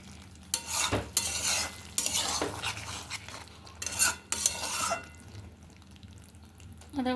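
A spoon stirs and mixes food in a pan, with intermittent scraping and clattering strokes over a faint sizzle, close by; a voice speaks briefly between strokes.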